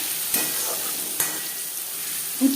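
Onions frying in refined oil in a pan for homemade chicken biryani, a steady soft sizzle with a couple of sharp stirring knocks, no voices.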